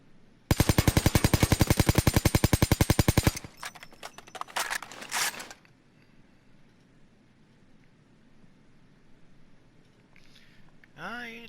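An AK-74 assault rifle in Payday 2 fires a long, steady full-auto burst of about three seconds, loud and evenly paced, followed by a few mechanical clatters and a quiet stretch.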